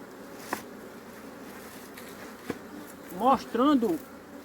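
A honeybee swarm at a hive box, with a low steady hum under brief loud close buzzing bursts as bees fly past near the end, plus a couple of soft taps.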